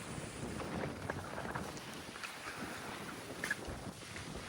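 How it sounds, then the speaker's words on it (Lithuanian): Strong wind on the last day in Zanzibar, a faint, continuous gusty rumble buffeting the microphone outdoors. "Nu, šiandien žiauriai vėjuota."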